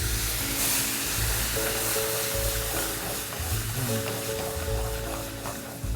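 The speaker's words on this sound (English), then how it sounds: "Deglaze with a little Chardonnay." Garlic in a hot pan deglazed with Chardonnay gives a loud, steady sizzle and hiss that runs unbroken throughout, with faint tonal whines riding on top and no speech.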